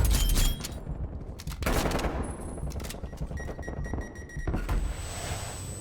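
Rapid bursts of video game gunfire ring out in a master-rank league match, sharp cracks and thuds crowding the whole stretch at close range with faint electronic tones, and no talk over them.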